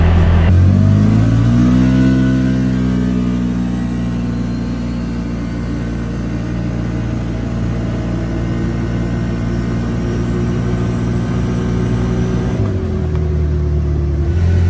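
A powerful ECU-tuned CFMOTO UForce 1000 XL UTV engine revs up and holds a loud, rumbling roar close by, then the pitch drops back as the throttle eases near the end.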